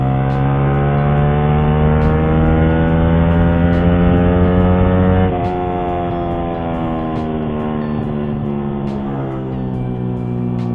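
Yamaha R15 VVA (v3) motorcycle engine held at high revs, a loud steady harmonic drone that drops slightly in pitch midway and then holds, with no talking over it.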